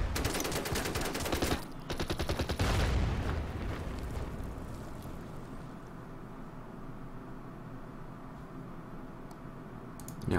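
Gunfire and explosive blasts in the World War II strategy game Order of Battle: Blitzkrieg, Kiev campaign: a loud burst of rapid shots in the opening seconds gives way to a long rumbling, fading tail with no talking.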